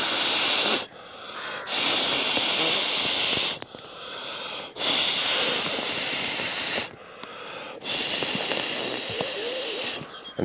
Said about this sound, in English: I'm going to try to blow it up.